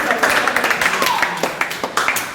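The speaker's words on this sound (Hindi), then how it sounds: "आप लोग इसको तालियों से स्वागत किया जाए" An audience at a general-knowledge class quiz gives a welcoming round of quick, steady applause, with close handclaps running throughout and talking mixed in.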